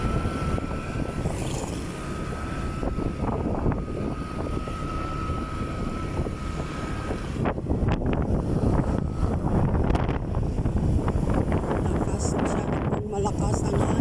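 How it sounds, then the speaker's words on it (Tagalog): Strong wind buffets the microphone on a city street near a bridge, a continuous roaring gust noise that swells louder partway through, with faint traffic and street sounds mixed in. "Malakas ang hangin"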